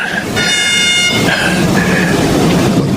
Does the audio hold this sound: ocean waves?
no